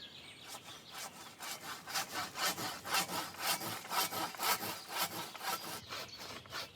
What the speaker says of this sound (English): Here I'm pruning a nice oak tree.